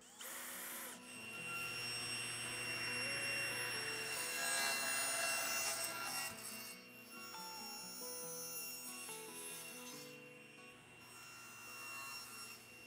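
A power drill drives screws into the underside of a wooden tablesaw jig. A steady motor whine with sustained tonal hum runs throughout, close and fairly loud, briefly easing near the end.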